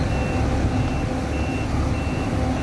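A vehicle's reversing alarm beeps steadily and loudly in repeated tones over a constant low engine rumble, heard close by with no talking.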